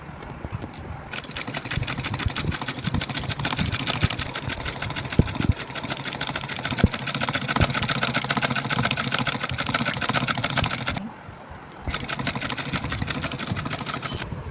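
A sewing machine runs steadily while stitching lace onto blouse fabric, with a continuous motor hum and dense rapid needle rhythm, pausing briefly near the end before starting again.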